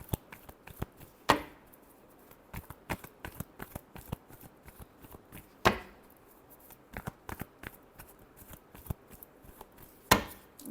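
A deck of tarot cards is shuffled by hand in a quiet room, with quick papery riffles and taps scattered irregularly and a few sharper, louder snaps standing out, close and without talk.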